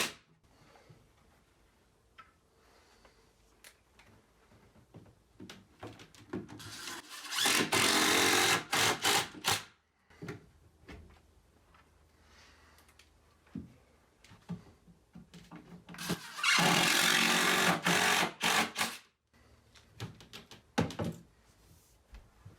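A power driver sets screws to mount a floating shelf against a wall, with two loud sustained whirring bursts between softer handling clicks and knocks, heard up close.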